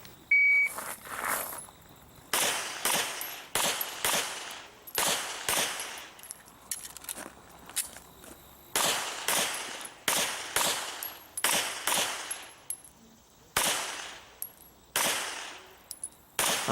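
Rapid pistol shots ring out in quick bursts during a timed defensive pistol match stage at an outdoor wildlife club range, loud sharp cracks in clusters of two to four separated by brief pauses, with a beep at the start.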